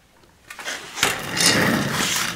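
A Generac G-850 generator with a Kawasaki engine pulled into life: a quiet lead-in, a sharp pull at about one second, then the small engine catching and settling into a loud, steady buzzing run.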